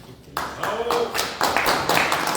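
Applause for a speaker at a public forum in Quetzaltenango, a burst of clapping that starts abruptly and continues steadily, moderately loud and close.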